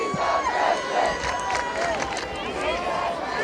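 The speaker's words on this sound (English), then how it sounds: "And the Doherty crowd chanting" At a high school football game between South and Doherty, the Doherty crowd chants in a loud, sustained roar of massed voices with rhythmic swells, continuous throughout and filling the stands.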